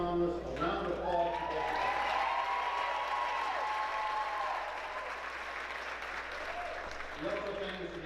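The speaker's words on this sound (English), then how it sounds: "a round of applause" Applause from the audience at a Golden Apple Award ceremony: a broad, sustained clapping that fills the room, with voices calling out above it, easing slightly toward the end before swelling again.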